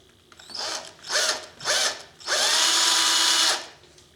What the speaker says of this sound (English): So I'm going to drill my first hole.